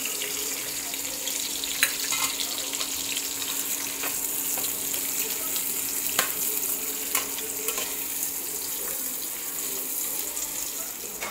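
Onion frying in oil in a kadhai with whole spices and curry leaves, a steady broadband sizzle with scattered stirring clicks throughout, fairly close and continuous.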